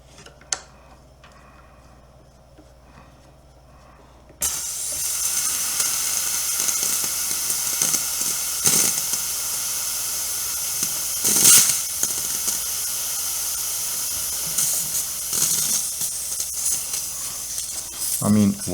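The steam wand of a Gaggia Classic espresso machine bursts into a loud, steady hiss as it steams milk, with soft handling noises before it starts and a person talking over it.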